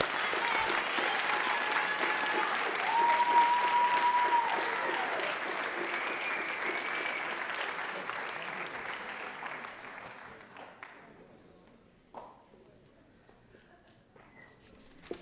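Round of applause at the Northeastern senior class awards and recognition ceremony: sustained crowd clapping that gradually fades out, followed by a quieter room with faint shuffling.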